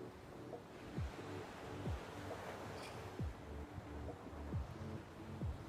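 Strong wind roars and buffets the microphone in steady gusts, with a low rumble like distant surf underneath.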